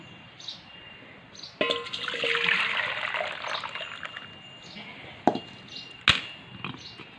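Hot water is poured from an iron wok into a pot over a wood-fired stove: a rushing, splashing pour swells for a couple of seconds and then trails off, followed by a few sharp metallic clinks.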